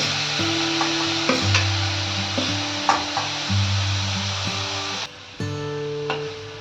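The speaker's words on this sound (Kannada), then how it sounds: "ಇದು ಸೊಪ್ಪು ಚೆನ್ನಾಗಿ ಒಂದ್ಸರಿ ಫ್ರೈ ಆಗಬೇಕು" Dill and fenugreek leaves fry in a pan with a steady sizzle while being stirred, with brief scraping strokes and a short drop in level near the end, accompanied by a steady tonal background.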